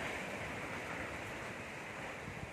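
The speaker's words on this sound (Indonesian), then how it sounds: "Dimana anginnya sangat kuat." Strong storm wind gusting right after a rainstorm in Tatau, a steady, loud roaring rush that fills the whole stretch without pause, with no voices.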